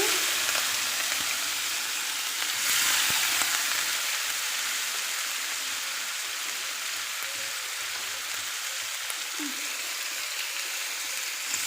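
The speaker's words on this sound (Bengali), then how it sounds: "কিছুটা জিরা দিচ্ছি এবার কিছু পেঁয়াজ দিচ্ছি" Cumin seeds and chopped onion frying in hot oil in a pan, giving a steady, dense sizzle that runs unbroken throughout at close range, with no talking over it.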